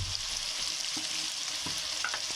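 Ground spices sizzle faintly in a frying pan for a couple of seconds, with a soft steady hiss and a few light scrapes as they are mixed.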